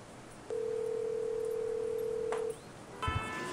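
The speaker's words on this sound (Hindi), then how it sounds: "ये किसका फोन आ रहा है?" A phone in GTA 5 gives a single steady electronic ring tone for about two seconds, clear against a quiet background, and a short burst of noise follows.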